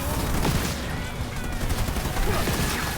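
Dense, continuous gunfire in Halo Wars 2 as units come under attack from enemy vehicles, steady bursts and rattling shots filling the battlefield with a faint game voice in the mix.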